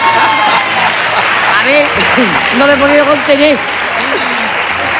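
Audience applause fills a hall as someone talks over it. The clapping is steady and broadband, running the whole time beneath her voice.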